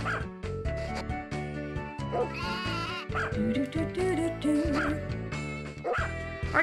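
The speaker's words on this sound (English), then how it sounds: "Bark, bark." Cartoonish dog barks from Harvest Moon: Tale of Two Towns, several short yips popping up over busy, continuous game music.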